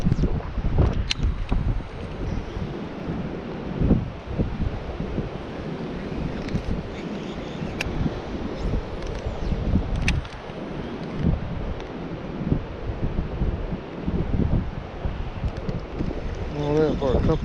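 Strong wind roars and buffets the microphone on a boat during bass fishing, a loud, constant rumble with gusty fluctuations and faint water sounds underneath, lasting the whole stretch.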